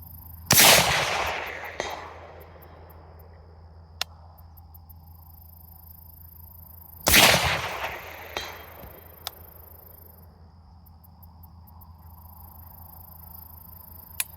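Rifle shots at an outdoor shooting range: two loud, sharp cracks about six seconds apart, each with a decaying echo tail, plus a few faint clicks and distant ticks in between.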